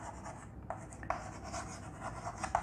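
Chalk or marker scratching across a classroom board during a chemistry lecture on the solid state, with quiet, steady strokes and a few sharper taps.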